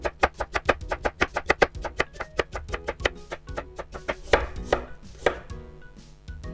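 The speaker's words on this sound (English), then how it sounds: "Then next I'm gonna cut up the daikon radish." A knife cuts daikon radish into strips on a cutting board with quick, even, sharp chops close by, slowing into more scattered strokes toward the end.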